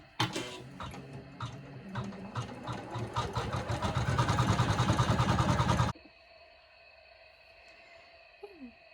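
A sewing machine stitches a tee with Sulky thread in rapid, rising mechanical bursts for about six seconds, then stops, leaving a quiet hum and faint handling.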